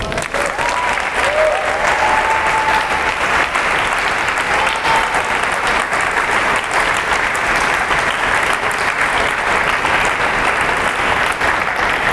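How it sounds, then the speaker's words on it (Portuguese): A church congregation claps continuously in a dense, steady wave of applause that holds at an even level from start to finish. "Aplauda Jesus"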